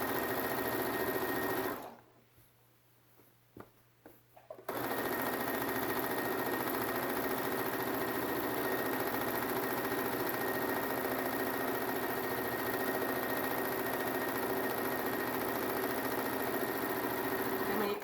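A sewing machine stitching a pillowcase seam runs steadily and close, pausing briefly for a corner turn with the needle down before whirring on continuously.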